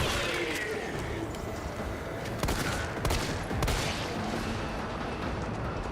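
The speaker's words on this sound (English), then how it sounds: "Man, that pistol packs a punch when you've put a part on." Several sharp pistol shots from a Resident Evil game crack out at irregular intervals over a dense, noisy game background.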